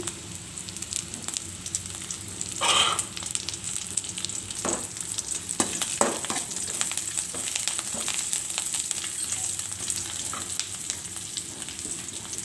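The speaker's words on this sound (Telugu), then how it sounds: "కరివేపాకు వేసి వేయించుకోవాలి ఆనియన్స్ వేగిన తర్వాత కొత్తిమీర కూడా వేసుకోవాలి" Curry leaves, onions and coriander fry in a pan with a steady close sizzle, broken by a few stirring scrapes and brief louder bursts, and no talk.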